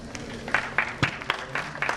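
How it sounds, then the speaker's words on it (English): Scattered, sharp handclaps from a conference audience welcoming a chartered accountant to the dais, several distinct claps standing out over a low room hum rather than a full, dense ovation. "A huge round of applause for our speaker, CA Gopal Krishna Raju."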